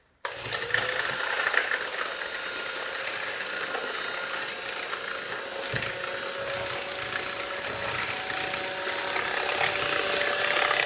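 An electric mixer whips three eggs with sugar for lemon muffins, giving a steady, loud, close whirring buzz that runs without pause and swells slightly toward the end.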